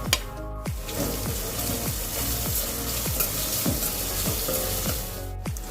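Finely chopped large onion dropped into hot oil in a pan, sizzling steadily and close with a dense hiss, with repeated scraping stir strokes in a regular rhythm throughout.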